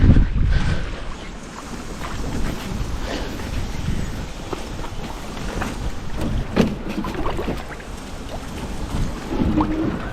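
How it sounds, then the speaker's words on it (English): A sailboat launching into the wind on Joes Pond, Vermont, in late summer, with steady wind rush and microphone buffeting over lapping water and hull sounds, and no voices. "We're launching right into the wind, so this will be interesting."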